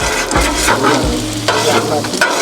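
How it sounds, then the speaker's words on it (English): Eggs sizzle and fry on a home hibachi griddle, a loud crackling hiss overlaid with repeated scraping and tapping of a spatula stirring them in an irregular rhythm. "Got the eggs going on right now"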